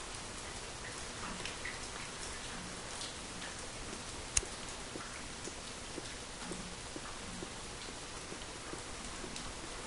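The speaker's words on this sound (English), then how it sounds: "It's raining." Steady rain falls in the survival game The Forest, an even, continuous patter with one sharp tick partway through and no voices.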